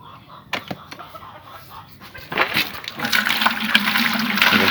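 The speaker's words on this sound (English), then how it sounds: "So I'm going to start filling up the water." Water runs into a bucket feeding chicken auto-fill cups: a few faint clicks at first, then a rushing, splashing flow swells up around two seconds in and keeps going loudly to the end.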